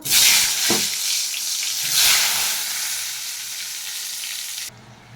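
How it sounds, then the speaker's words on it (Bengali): Two eggplant slices frying in hot oil give a steady, loud broadband sizzle with brief stirring clatter near the start, continuing close and unbroken until the sizzle drops away near the end. "2 পিস আমি বেগুন ভেজে নেব।"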